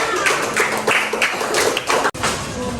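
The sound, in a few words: classroom applause after a presentation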